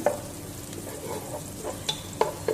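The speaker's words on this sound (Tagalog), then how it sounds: "So use olive oil to fry the garlic and onion." Garlic and onion fry quietly in olive oil in a pan, a soft steady sizzle broken by a few light clicks and stirring scrapes, faint and close with no talking.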